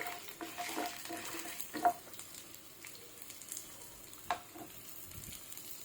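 Garlic and a piece of ginger sauté in a pan for a pirandai (adamant creeper) thuvaiyal, giving a quiet, low sizzle broken by a few sharp scrapes and knocks of a spoon stirring.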